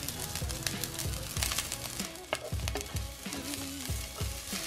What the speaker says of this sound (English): add in the broccoli to saute for 3 to 4 minutes. Stir the broccoli to coat in the oil